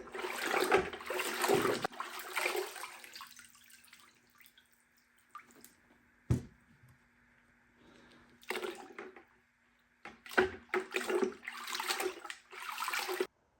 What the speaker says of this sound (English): Rinse the soap off though.